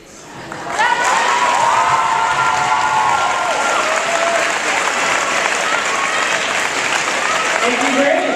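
Sustained loud audience applause fills a school assembly after captain election speeches, with steady dense clapping that swells and holds throughout, shouts and voices mixed into the crowd.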